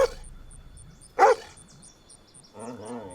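A dog barks once, sharp and close, then gives whimpering yips while an electronic beep repeats in the background.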